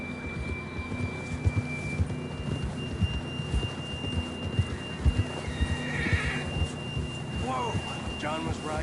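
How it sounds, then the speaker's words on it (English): A horse whinnies amid a busy Red Dead Redemption 2 game soundscape with a low rumbling bed, faint hoof clatter and a steady electronic tone, no clear speech. "John was riding that horse when we left Blackwater."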